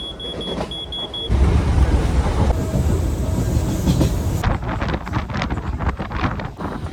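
A new Howrah–Digha local train runs at about 100 km/h, heard from on board as a loud, steady roar of rumble and wind with rapid wheel clatter and rattling through the carriage.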